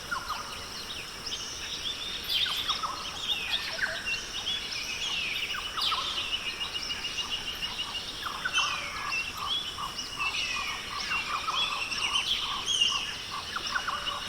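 Toucans in the Guyana forest give layered, overlapping calls in a small group, a steady chorus of croaks and yelps that carries on without pause for the whole stretch, with no voices.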